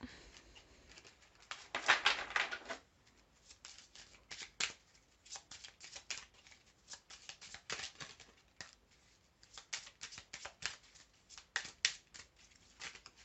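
Oracle cards from a large deck being shuffled, producing repeated crisp riffling bursts and soft slaps in an irregular rhythm, close up and fairly quiet.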